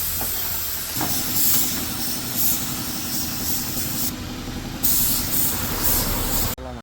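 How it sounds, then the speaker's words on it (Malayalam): Spray gun laying a clear lacquer coat over a carved wooden name board, a steady close hiss that runs almost the whole time with a brief change in tone midway, then cuts off near the end. "അപ്പോൾ നമ്മൾ സീലർ അടിയെല്ലാം ആയിട്ടുണ്ട്. ഇനി അടുത്ത് നമുക്ക് ക്ലിയർ അടിച്ചു കൊടുക്കാം."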